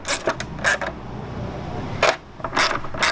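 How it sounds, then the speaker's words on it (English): A hand ratchet clicks in short bursts while tightening a nut on a Big Mouth ram air intake fitted to a Ford Focus RS, the quick pawl clicks close and fairly quiet with pauses between strokes. "Now we can go ahead and torque this down until it gets tight."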